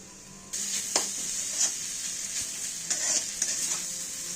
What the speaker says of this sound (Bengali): পুরের জন্য নারকেলটা ভালো করে ক্ষীর করে নিচ্ছি ভালো করে ভেজে